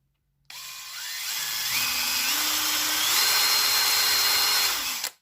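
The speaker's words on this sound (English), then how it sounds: "I'm going to have to try and gently drill it in situ" A power drill bores out a previously tapped hole in place, one continuous close whine that rises in pitch as it spins up and holds for about four seconds before stopping abruptly.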